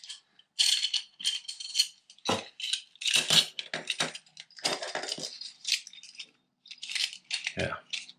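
A folding bow saw being folded up, giving a run of light metallic clicks, rattles and clinks in irregular bursts, close and fairly loud with short pauses between.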